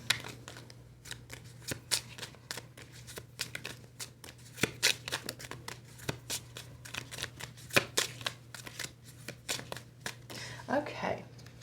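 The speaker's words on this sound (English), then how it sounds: "Give it a good shuffle, guys." Rapid clicking and riffling of tarot cards being shuffled, with repeated crisp bursts over a steady low hum and faint background voices.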